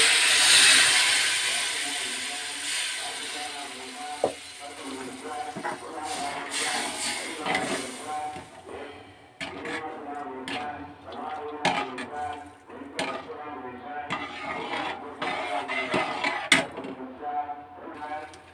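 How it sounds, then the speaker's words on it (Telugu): Water poured into a hot pan of roasted semolina while making rava kesari, with a loud sizzling hiss at first that fades into scattered clatter and stirring noises. "తర్వాత వాటర్ పోసుకుంటున్నానండి."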